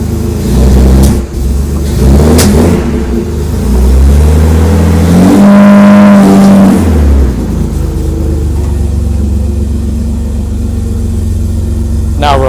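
A 1959 Austin Healey 3000 classic sports car engine starts and revs up loudly, rising to a sharp peak mid-clip, then settles into a steady idle rumble close by.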